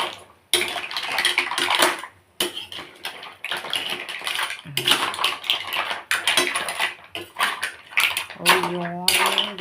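Mussels and seasonings being stirred in a cooking pot, giving repeated clattering scrapes of shells and utensil against the pot, close and fairly loud, with someone talking over it.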